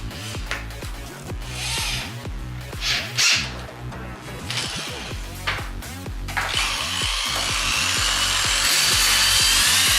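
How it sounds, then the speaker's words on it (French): A power drill fitted with a special bit sands parts of a 2005 Subaru Impreza, giving a steady whirring, rasping grind with rhythmic scraping strokes that grows louder and harsher toward the end, with no voices. "on va utiliser une perceuse avec un pic spécial en avant pour sabler toutes les pièces qu'on a besoin"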